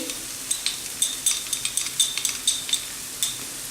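A spoon mixes red and orange food colour with milk for paneer modak, giving a rapid, regular series of light metallic clinks and scrapes against a small dish over faint background hiss.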